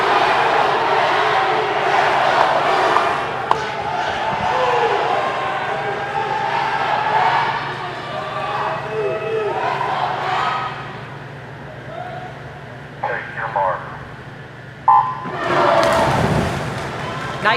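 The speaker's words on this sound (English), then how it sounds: "You can hear the crowd going woo, and that's always fun to hear." Spectators at a college swimming and diving championship cheer and call out "woo" around the pool before a race, a broad crowd roar mixed with talk and shouts, swelling into a loud burst near the end.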